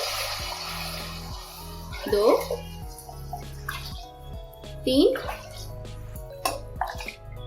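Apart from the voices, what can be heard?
water poured bowl by bowl into a cooking pot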